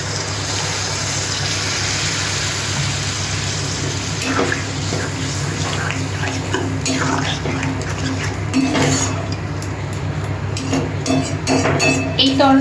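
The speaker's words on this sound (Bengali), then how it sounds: "ডিম ভুজিয়াটা কষানো হয়ে গেছে, আমি এবার জল দিয়ে দিচ্ছি।" Water poured into a pan of egg bhujia, a steady wet gushing with light clinks of utensils against the pan, close by and continuous.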